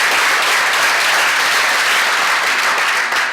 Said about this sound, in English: This is what you should be clapping about.